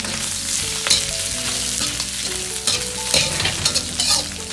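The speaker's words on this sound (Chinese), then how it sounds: "煸炒至排骨表面微黄，出油脂" Pork ribs stir-fry in a wok with hot oil and spices until lightly browned, giving a steady close sizzle with scraping stirs, under tonal background music.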